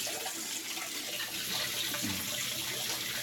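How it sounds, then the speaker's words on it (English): A garden hose runs water into an aquarium tank, producing a steady, continuous rushing and splashing stream close by with no pauses and no voices. "we can just leave the hose in the tank until it fills up all the way"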